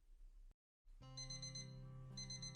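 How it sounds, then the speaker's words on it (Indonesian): A mobile phone alarm rings with bright, repeating electronic tones after a short silence, steady and clear with nothing else over it. "Terdengar suara alarm HP telah menyala sebanyak 5 kali"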